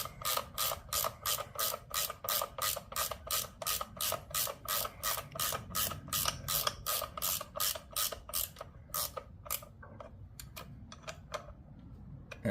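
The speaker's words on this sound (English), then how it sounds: "these newfangled ratcheting box wrenches are pretty nifty" A ratcheting box wrench clicks rapidly in even bursts while turning a fastener on a Harley primary case, close and crisp, with a steady rhythm that grows sparser and irregular toward the end, no talk.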